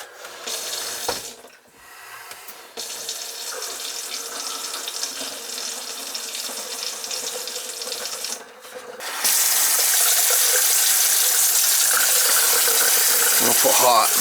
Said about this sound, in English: See if we get some water to flow